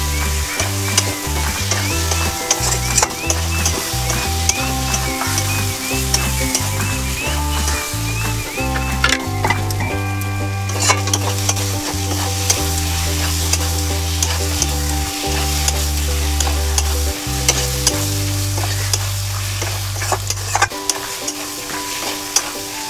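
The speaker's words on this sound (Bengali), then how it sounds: "দিয়ে আরেকটু আলুটাকে মশলার সঙ্গে মিশিয়ে নেব" Fried potatoes are stirred into a sizzling egg curry masala in a pan, a soft steady frying hiss with occasional scrapes, mostly buried under continuous background music with a prominent bass line.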